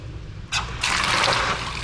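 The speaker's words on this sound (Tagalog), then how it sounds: "Lagyan natin tubig." Water pours into a plastic basin at home, a soft trickle that starts abruptly and becomes a steady, fairly close splashing rush over a low background hum.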